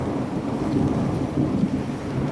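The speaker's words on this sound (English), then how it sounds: "Occasionally, thunder rumbles above, adding to the chill and heightening my sense of vulnerability." Thunder rumbles low and steady through a rainstorm on the Camino de Levante, a continuous deep roll blended with the hiss of falling rain, with no voices.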